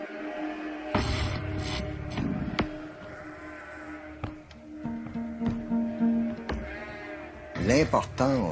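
Farm lambs bleat close by, several plaintive calls rising over other bleats, with people talking through much of it.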